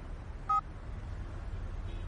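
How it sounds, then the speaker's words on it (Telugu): A new mobile phone, just fitted with a SIM card, gives a single short two-tone notification beep against a quiet, low room hum, with a fainter tone near the end. "ఏంటి ఇన్ని మెసేజ్లు వస్తున్నాయి?"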